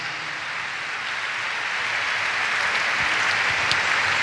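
A church congregation claps together in a continuous, broad wash that grows slightly louder, with a few sharper claps standing out near the end.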